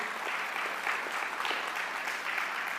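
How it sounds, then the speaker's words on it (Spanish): A church congregation applauds steadily, a dense even wash of clapping heard from a moderate distance with no voices standing out. "Yo mismo me aplaudo."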